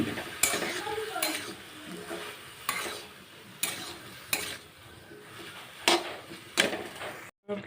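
Potatoes and soybean chunks frying with turmeric and salt in a pan, a low sizzle under repeated sharp scrapes and knocks of a spatula stirring against the metal, roughly every second, with a brief silent gap near the end.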